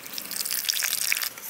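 Water trickles and splashes steadily onto sugar in a bowl while making a cherry syrup for a black forest cake, a soft, continuous close-up pour with no talking.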